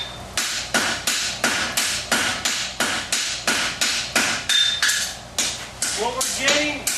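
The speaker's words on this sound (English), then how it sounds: "the use of a big hammer" Heavy rhythmic blows of a big hammer on metal at a blacksmith's anvil while learning to strike, about twenty sharp ringing strikes in a steady beat that quickens toward the end, close and loud.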